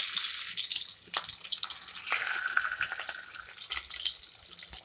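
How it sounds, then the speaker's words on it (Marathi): Chopped onion fries in hot oil in a pan on a gas stove, giving a bright, steady hiss and crackle that swells and eases, close up with no talk. "पहिले आपल्याला कांदा तळून घ्यायचा आहे तेल बी टाकले"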